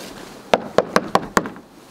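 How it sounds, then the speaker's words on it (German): Five sharp knocks on a door in quick, slightly uneven succession, close and clear, at a visit to a team's basement quarters; no talk. "Und da klopfen wir jetzt erstmal an"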